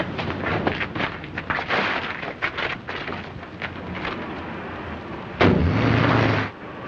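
A series of sharp explosive blasts and rumbling bursts fires off, followed by a louder sustained roar that cuts out abruptly.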